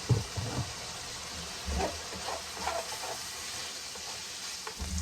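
Sesame oil sizzles on a hibachi griddle alongside steak, chicken and shrimp, a soft steady hiss with a few scraping stirs, close by and without speech.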